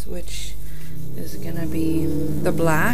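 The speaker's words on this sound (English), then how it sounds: "Sorry for the traffic." Road traffic passes outside during indoor craft work, a steady low rumble of car engines running beneath continuous nearby talking.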